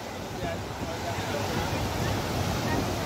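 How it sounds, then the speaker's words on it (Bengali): Sea waves washing onto the beach at Digha, a steady broadband surf wash with wind buffeting the microphone, continuous and close throughout. "এইখানে জল চলে আসবে, একটু ওয়েট করছো না"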